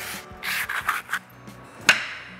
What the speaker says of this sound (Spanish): Entonces con una lija le hacen así suavecito, circular.